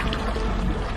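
Outdoor water sampling: river or lake water is scooped into a Whirl-Pak sample bag, a brief close sloshing pour with a low rumbling wash.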